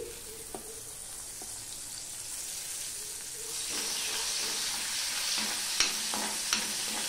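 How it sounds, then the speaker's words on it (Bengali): Garlic sizzles steadily in a hot pan, the frying hiss growing louder midway, with a few sharp scrapes and taps as it is stirred; no one speaks. "রসুনটা দিয়ে একটু নেড়ে নিলাম"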